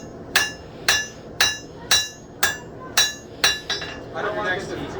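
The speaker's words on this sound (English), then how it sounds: "I'm just flattening out hammer marks." Hammer blows on hot metal at a forge, flattening out hammer marks while shaping a piece in Frankenmuth, Michigan; seven evenly spaced, ringing close strikes, then a softer scraping clatter.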